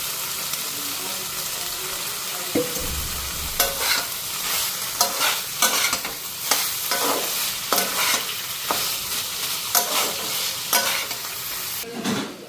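Garam masala frying in ghee with banana flower, a continuous sizzle broken by repeated scraping stirs of a spoon in the pan, close and clear, with occasional knocks.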